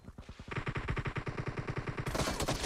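Rapid automatic gunfire in a video game team deathmatch, a fast, loud, evenly spaced burst of shots running continuously, with no talking.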